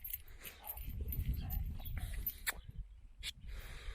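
A dog turns up in a Turkish village lane, heard faintly as scattered snuffles and soft padding over a low outdoor rumble, with a few sharper knocks and no clear talk.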